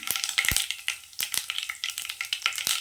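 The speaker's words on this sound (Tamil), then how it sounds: "எண்ணெய் சேர்த்துக்கலாம். கடுகு உளுத்தம் பருப்பு சேர்த்துக்கலாம். கருவேப்பிலை சேர்த்துக்கலாம்." Mustard seeds, urad dal and curry leaves fry in hot oil with a lively run of sharp crackles and spluttering pops over a sizzling hiss, close and irregular, with no speech.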